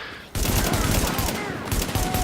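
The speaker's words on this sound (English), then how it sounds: "meanwhile, I'm shooting these guys" Rapid gunfire in The Division shooter game, a dense continuous burst of shots that starts abruptly and keeps going with sharp cracks standing out, loud and close.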